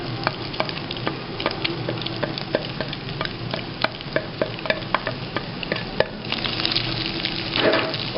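Onion, carrot and capsicum stir-fried in a pan, a continuous close sizzle broken by frequent sharp scraping and tapping strokes of a utensil, growing busier and louder toward the end, with no talking.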